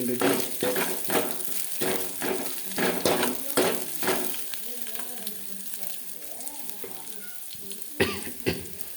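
Salted masala fries in a pan for a mushroom fry, with rhythmic spatula stirs and scrapes over a soft sizzle, then quieter frying before a couple of louder pan knocks near the end.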